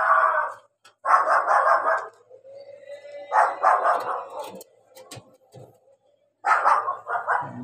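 A dog barks loudly and close by in several separate bursts of rapid barks, with short quiet gaps and a faint whine between them.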